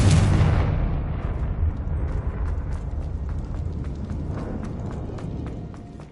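A fiery Confringo spell explosion in Hogwarts Legacy bursts loudly at the start, then decays into a long rumbling roar with scattered crackles fading away.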